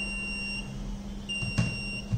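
A small buzzer on a Raspberry Pi based smart safety ring beeps twice, each a thin steady tone switching on and off, fairly quiet with a faint knock near the end.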